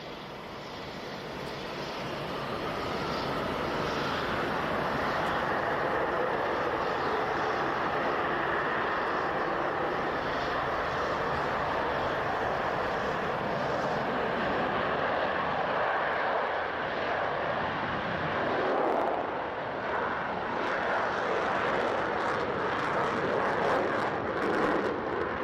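Concorde supersonic airliner roaring steadily with a loud, continuous engine rumble and high whine, holding a broad sustained noise throughout with no speech.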